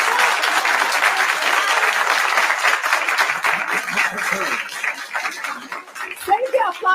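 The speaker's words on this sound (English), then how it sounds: "save the applause till the end" Dense audience applause, steady and fairly loud at first, then thinning into scattered claps with voices showing through toward the end.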